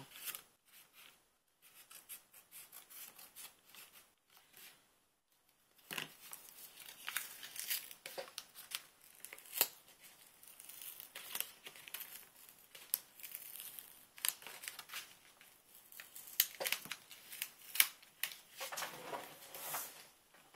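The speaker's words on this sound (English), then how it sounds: "Let me see if I could trim it down a little bit with my scissors" Close, quiet snips of scissors mixed with crinkling and rustling paper come in irregular bursts after a near-silent start.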